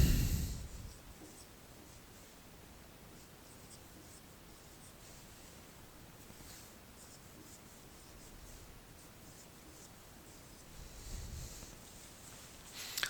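Chalk or marker writing answer options on a classroom board: a faint, steady scratching and rubbing under low background hiss, with a slightly louder stroke near the end.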